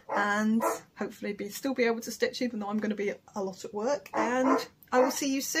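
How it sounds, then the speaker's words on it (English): Several dogs bark and yip in bursts at home, loud and close, mixed in with someone talking the whole time. "I've got to go and let the dogs out. I'm really sorry about the barking."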